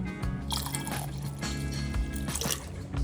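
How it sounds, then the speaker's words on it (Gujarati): Water pours into a pot of boiled, mashed dal for dal dhokli, a steady close liquid splashing and trickling sound with dripping accents, heard alone without talk. "હવે એમાં પાણી નાખીશું."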